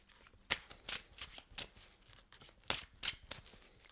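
A deck of tarot cards is shuffled by hand in a quiet room, giving a run of crisp riffling and slapping bursts in an uneven rhythm, close and fairly soft, with no talking.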